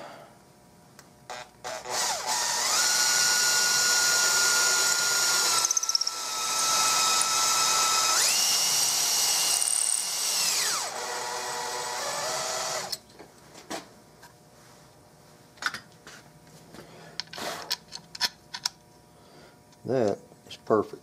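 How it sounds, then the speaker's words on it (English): A power drill whines loudly for about ten seconds, drilling upside down into epoxy on a 2006 Winchester Gallery Gun, pitch shifting as it bites, then stops; scattered clicks, handling noises and brief talk follow. "If you're wondering why I'm drilling upside down"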